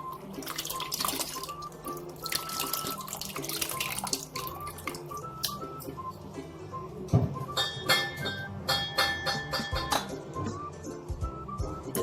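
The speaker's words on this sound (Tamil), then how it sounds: "தண்ணியை இந்த பாத்திரத்துக்கு வடிகட்டி ஊற்றுறாங்க" Water strained and poured into a cooking vessel while making rasam in a home kitchen, a steady trickling splash with dripping and occasional clinks of metal utensils, close and fairly quiet throughout.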